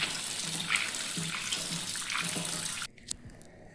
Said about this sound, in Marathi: हे एवढे शेंगदाणे काढले आणि याला ना धुवून घेते